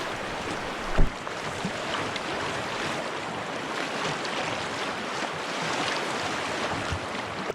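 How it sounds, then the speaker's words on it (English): A canoe runs a 400-yard stretch of Class 1 rapids on the Connecticut River beside Route 102, with steady rushing water and wind noise throughout and a single sharp knock about a second in. "we encounter a 400-yard stretch of Class 1 rapids, adjacent to Route 102"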